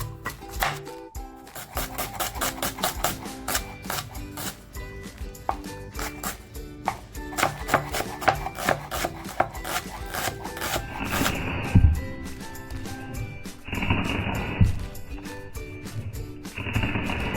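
A knife chops onion on a board for a spicy kanda lasun chutney, tapping out a rapid, steady run of close, crisp strikes that keeps going with only brief breaks.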